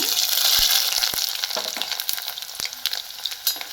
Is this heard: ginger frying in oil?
yes